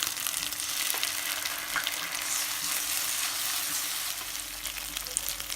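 Steady, loud sizzling of mutton liver frying in a hot pan, continuous crackle with occasional stirring, no voices.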